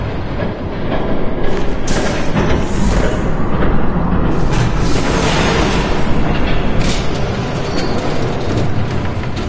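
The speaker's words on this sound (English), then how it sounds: "There's a train coming." A train passes in the Batman Telltale video game, a loud, sustained roaring rumble with rattling clatter and rushing noise that swells and holds for several seconds.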